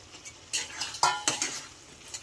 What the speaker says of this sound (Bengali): চিকেনগুলো ভালো করে এর সঙ্গে গ্রেভির সঙ্গে মিশিয়ে নিচ্ছি।